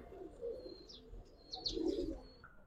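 Giribaz pigeons of the Palla line cooing softly in a loft, low rolling coos swelling twice over faint chirps and a light rustle of wings, no voices.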